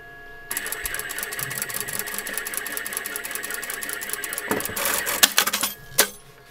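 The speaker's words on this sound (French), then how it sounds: "ensuite, je couds. Alors, ça se coud très bien parce que c'est une couture droite." A sewing machine runs steadily, stitching a straight seam on a rag doll dress bodice, whirring continuously for several seconds before stopping with a few sharp clicks and clunks.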